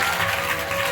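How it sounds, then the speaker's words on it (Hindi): A crowd at a Shiv Purana religious discourse breaks into loud, dense applause that runs steadily from start to finish as a continuous wash of clapping. "बजाओ एक बार जोरदार ताली"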